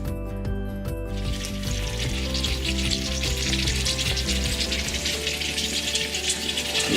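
Meatballs frying in a pan give a steady, close sizzle throughout, with crackling and spattering running unbroken over a low cooking rumble.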